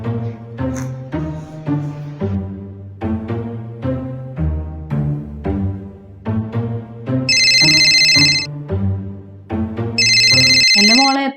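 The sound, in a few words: phone ringing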